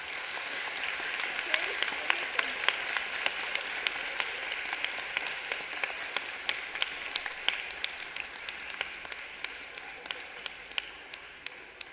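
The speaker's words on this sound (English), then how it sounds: "Let us give them another big round of applause." An audience at an Easwaramma Day celebration applauds children's performance, with dense sustained clapping from a large crowd and sharp individual claps standing out, continuing steadily for the whole stretch.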